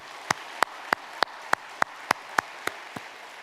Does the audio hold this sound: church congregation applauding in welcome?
yes